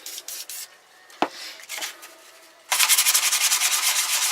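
Motorcycle rear sets for a Bandit 1200 are sanded with 240 grit sandpaper, first as scattered light scrapes, then a loud, rhythmic back-and-forth rasp of fast, even strokes close to the microphone.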